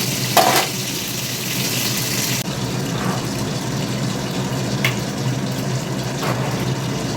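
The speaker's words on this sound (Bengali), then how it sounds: "পটলগুলো একটু ভাজা হোক," Pointed gourd (potol) fries in oil in a pan, giving a steady, fairly loud hissing sizzle with a few brief stirring or clattering noises.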